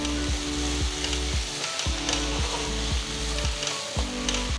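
Squid masala with curry leaves and coriander sizzles steadily in a pan while a spoon stirs it in repeated scraping strokes, a close, continuous frying hiss under rhythmic stirring with no talking.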